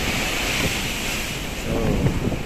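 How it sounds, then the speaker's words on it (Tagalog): Ocean waves surge continuously on an open stretch of coast while strong wind buffets the microphone, a loud, steady roar with a slight swell toward the end. "Pero yung alon kay tuloy-tuloy pa rin. Saka yung lakas ng hangin"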